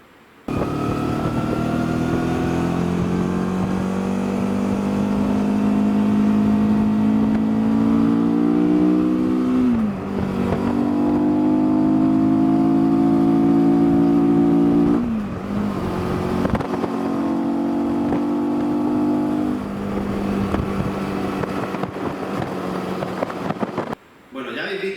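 A Suzuki V-Strom motorcycle engine is held at full throttle, producing a loud, sustained rev with strong harmonics. Brief dips in power around the middle suggest the stuttering misfire fault before the engine holds high revs again.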